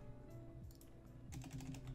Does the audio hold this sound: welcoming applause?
no